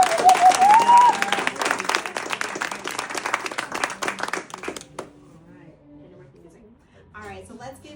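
An audience applauds students at a GVSA awards ceremony, a loud dense burst of clapping that fades after about five seconds, followed by quieter room sound and a voice speaking.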